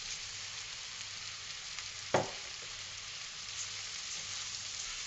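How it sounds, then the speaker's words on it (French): Rice tipped into a pan sizzling with courgettes and butter, a steady soft frying hiss with one sharp clatter as the grains go in, then the sizzle carries on evenly with no voices. "Donc là maintenant je mets le riz."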